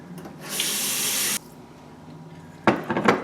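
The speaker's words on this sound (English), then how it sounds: "Put some water in there" Water poured into a pressure cooker holding a bone for stock, a steady rushing stream for about a second, then quiet before a second splashing burst.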